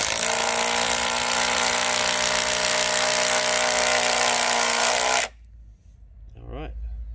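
Makita impact driver driving a roofing screw into a masonry crate, a loud continuous rattling hammer-buzz for about five seconds that cuts off abruptly, followed by a brief voice.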